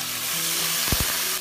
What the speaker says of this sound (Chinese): 一定要多炒一会儿，炒出油，炒入味。